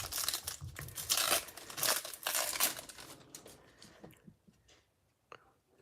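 Trading card pack wrappers from a Topps Chrome Update Jumbo box are ripped and crinkled close up, with about three seconds of busy tearing and crackling, then a few softer scattered rustles fading toward quiet.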